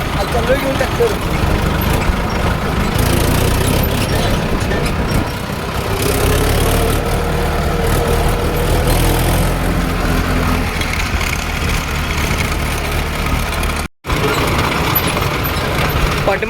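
Tractor engine running steadily while towing a trolley on a rural track, a loud continuous mid-low drone close by, with a person talking over it throughout and a brief dropout near the end.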